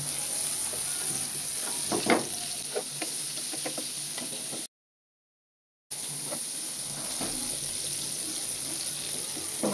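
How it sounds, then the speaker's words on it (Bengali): Prawns frying for a few seconds in a pan give a steady close sizzle with scraping stir sounds, interrupted by a short silent gap midway. No one speaks. "আর চিংড়ি মাছ বেশি ভাজতে হবে না, কয়েক সেকেন্ড ভাজলেই হয়ে যাবে।"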